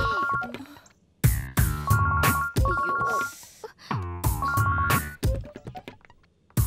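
A mobile phone ringtone plays in repeated bright melodic bursts with short gaps, loud and close, with no talking over it.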